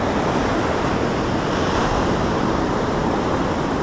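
Ocean waves from the incoming tide at Filey on the English coast, a loud, steady wash of surf with wind buffeting the microphone and no voices.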